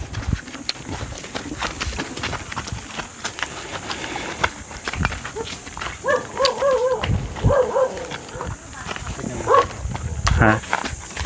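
A dog barks a few times in short yips amid outdoor clatter and thumps, with people talking nearby throughout.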